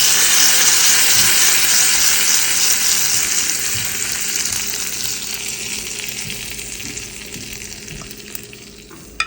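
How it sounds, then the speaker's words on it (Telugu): Tempering for chutney sizzles steadily in hot oil, a loud, continuous frying hiss that gradually softens toward the end, with no talking. "తాలింపు వేసుకుంటాను"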